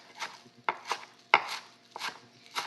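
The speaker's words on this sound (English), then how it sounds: "I've already rinsed this and just start chopping." A knife chops a rinsed bunch of fresh chives on a cutting board in a home kitchen, with a handful of crisp, close strokes at uneven intervals and no talking.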